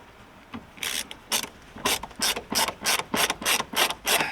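A screw being driven into a Honda Jazz wing mirror (2008–2013), heard as a close, steady series of about a dozen sharp ratcheting clicks in an even rhythm.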